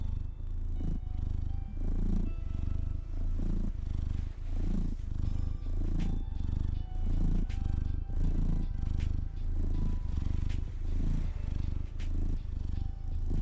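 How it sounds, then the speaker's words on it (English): A cat purrs close and steady for over ten seconds, a low rumbling drone pulsing in an even rhythm of breaths with no speech. "Purring for you."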